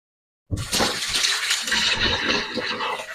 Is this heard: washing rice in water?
yes